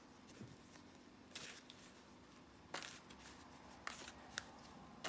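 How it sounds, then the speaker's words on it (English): Oracle cards with good, sturdy card stock being shuffled by hand, giving soft riffling bursts at a few points over a quiet background, with no talking. "These cards are not the easiest to shuffle"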